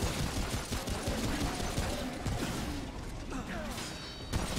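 Rapid video game gunfire in Remnant crackles continuously amid mechanical clanks and whooshes, dense and busy, with a faint voice underneath.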